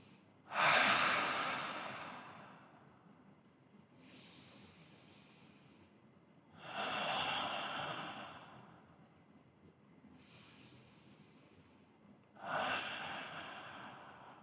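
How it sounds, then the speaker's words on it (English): Deep breathing during a stretching exercise, with three slow, loud exhales spaced a few seconds apart and softer inhales between them, close up and without talk. "Take some deep breaths here."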